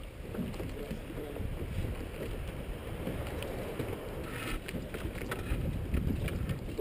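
Wind at sea rushes over a sailing boat held at anchor, a steady close buffeting roar with low-end gusts that swell slightly near the end, no voices.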